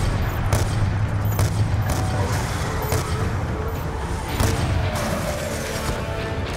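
Sustained gunfire from the Call of Duty Black Ops II mission Cordis Die on PC, a dense near continuous fusillade of rapid shots, impacts and crashes filling the whole stretch at a loud, close level.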